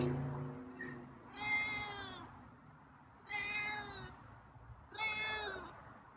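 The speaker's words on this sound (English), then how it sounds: "Wow, you're really meowy." A feral cat meows loudly three times, each call long and rising, spaced about two seconds apart, close by over a quiet room.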